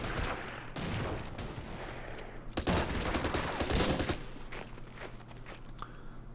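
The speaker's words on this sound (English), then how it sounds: "we can fire at these guys" Bursts of gunfire and explosions from the war strategy game Order of Battle: Pacific, several sharp volleys and rattling fusillades over a low rumbling background, close and moderately loud, with no talk.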